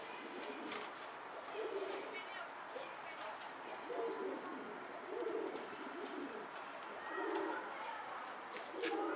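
A caught pigeon gives repeated low, throaty coos in soft pulses a second or two apart, close by, while people talk nearby.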